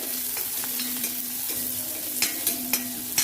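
Small shallots frying in a pan for snake gourd seed chutney, a steady close sizzle with a few sharp stirring scrapes and clicks toward the end, no voices.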